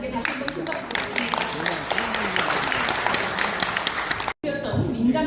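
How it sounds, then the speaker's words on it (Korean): An audience at an international academic forum in a Seoul hotel ballroom gives a sustained round of applause. Dense, steady clapping fills the room for several seconds, briefly cuts out, then resumes with voices mixed in. "다시 한번 큰 박수"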